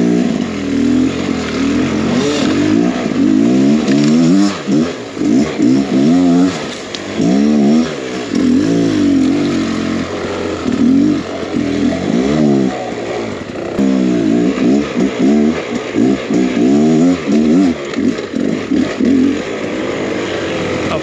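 A Beta X Trainer 300 enduro motorcycle revving through snow: a loud, close two-stroke engine rising and falling in repeated throttle blips and surges over about twenty seconds, with no talk.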